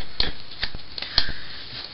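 Playing cards shuffled by hand, a few sharp riffling snaps and flicks scattered across two seconds, close and crisp against a quiet background.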